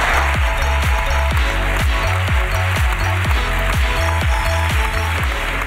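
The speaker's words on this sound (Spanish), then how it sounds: "Aplauso para Nazaré y su ruina." A live podcast audience applauds loudly and continuously, a thick sustained clatter of many hands, with rhythmic low thumps pulsing beneath the clapping the whole time.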